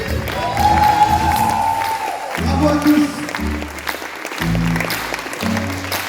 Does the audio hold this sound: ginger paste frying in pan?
no